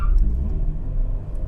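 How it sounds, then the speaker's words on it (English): A manual-transmission car launching with too much throttle, tires spinning: a loud, close, low engine roar and rumble sustained throughout the short burst. "you can give it too much gas. You can spin the tires."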